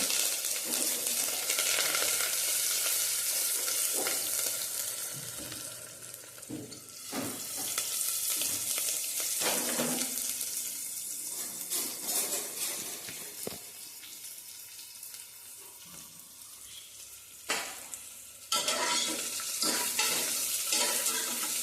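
Onion and chilli frying in a pan for a sprouted horse gram curry, a steady broadband sizzle with stirring scrapes and brief louder bursts, close and continuous with no talk.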